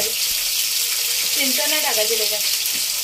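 Chopped tomatoes hit hot oil in a pan while cooking an Aagri Koli style mandeli (small fish) rassa, giving a continuous loud hiss and sizzle, with a faint voice briefly in the middle.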